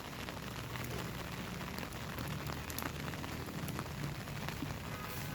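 Steady rain falls in a backyard on a rainy afternoon, a continuous even hiss of drops spattering on surfaces, moderately quiet and alone with no talking.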